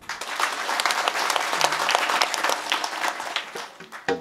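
Enthusiastic audience applause during a kirtan devotional sermon in Nanded, a steady crowd of many hands clapping together loudly for several seconds before tapering off.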